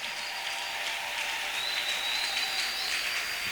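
A church congregation applauding and cheering, steady dense clapping with a bright whistle rising over it, full and sustained throughout.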